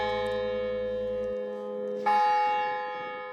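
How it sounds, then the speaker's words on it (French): A rare 14th-century church bell at the Château de Vincennes rings with a sustained metallic tone, one fresh strike ringing out midway over the lingering hum of the previous one. "Ah, c'est une belle cloche."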